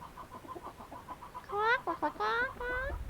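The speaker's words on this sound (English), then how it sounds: "Here's some chickens and a rooster." Chickens cluck in a soft, rapid series, followed by louder drawn-out squawks from a rooster nearby.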